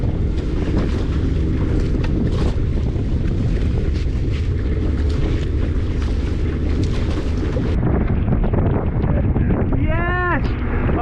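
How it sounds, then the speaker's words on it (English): Heavy rain storm with strong gusting wind battering a rocky shoreline, a dense steady roar of wind noise and rain throughout, loud and close. "that rain is fully set in right now"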